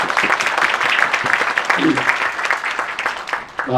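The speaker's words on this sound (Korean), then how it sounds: "여러분 하나님께 영광의 박수 한번 올려드립니다" A church congregation claps in a burst of applause, a dense rattle of many hands heard close and fairly loud, with a voice briefly speaking over it near the end.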